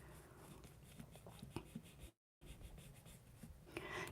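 A Granny Apple Green watercolor pencil scratches lightly across paper in short, close, quiet strokes, broken by a brief silent gap.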